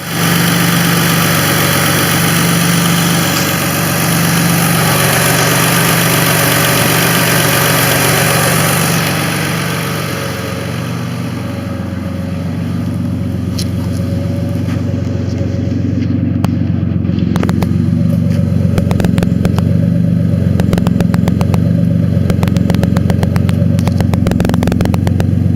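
A car engine idles just after starting despite a loose coil pack, a loud steady low rumble close by that continues evenly with occasional small clicks and rattles.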